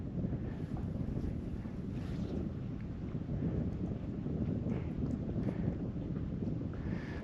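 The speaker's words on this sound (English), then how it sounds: "And now the wind's picking up." Wind gusting outdoors at a high alpine lake, a steady rumbling roar buffeting the microphone without a break, with no voices.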